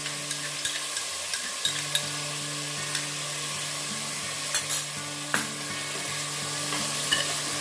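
Garlic paste frying and being stirred into chicken keema in a pan, a steady close sizzle broken by a few scraping stirs of the spoon, with no talk.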